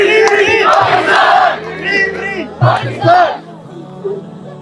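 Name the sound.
crowd chanting Free Pakistan slogans at Save Gaza rally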